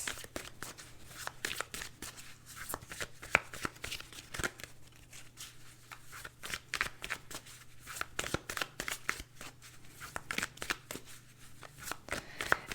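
Tarot cards shuffled by hand close up, a rapid run of crisp riffling flicks repeating in bursts over a low steady hum, with no talking.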